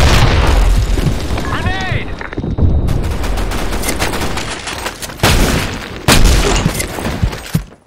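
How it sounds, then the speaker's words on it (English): A grenade goes off in the action game Broken City amid close bursts of gunfire, with several sharp booming blasts and rattling shots spread through the scene and a voice speaking over the din. "Fire in the hole! Grenade!"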